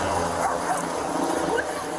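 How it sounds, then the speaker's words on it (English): A police dog barks and yips in short bursts at mid distance, mixed into busy background noise. "Police canine!"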